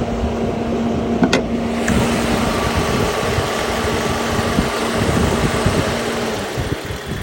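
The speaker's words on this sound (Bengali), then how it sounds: "তো গাড়ি কোল্ড স্টার্টে ছিল, এখন গাড়ি নর্মাল আরপিএমে চলে এসছে।" A 2024 Maruti Dezire sedan engine idles steadily at normal RPM after a cold start, a low, even hum that holds for several seconds and fades slightly near the end.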